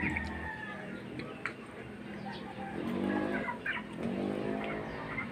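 A lone rooster's calls, clucks and short crowing-like cries sound outdoors at moderate distance over a steady background hum, with brief louder swells.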